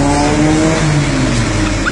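A BMW X5 engine runs loud and close for two seconds, a steady throaty drone with strong low harmonics and a slight rising rev, dense and unbroken with no talk over it.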